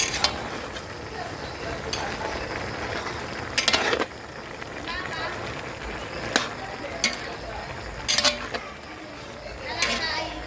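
Igado, a pork liver stew, bubbles in a pot while being stirred, with scraping and clinking of a utensil against the pot and occasional sharper knocks over a soft background simmer.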